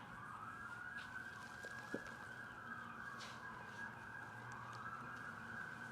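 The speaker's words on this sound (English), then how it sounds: "The ambulance coming?" An ambulance siren wails in the distance, a faint, steady rising-and-falling tone heard from indoors with no talking over it.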